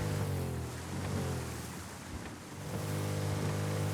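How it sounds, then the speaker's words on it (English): A boat passing on the open ocean in the video game Rust, a steady low engine drone mixed with waves and wind rushing, swelling slightly then easing as it goes by. "we've got one shot at this as the boat goes past us."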